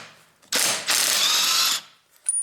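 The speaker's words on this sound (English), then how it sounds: "now we use this my impact driver, what I can recommend, Makita battery base" A Makita battery impact driver loosens bolts in two loud, close bursts of rapid hammering, a short one and then a longer one, followed by a faint clicking tail.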